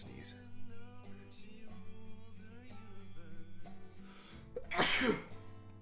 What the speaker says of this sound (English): 2 sneezes back to back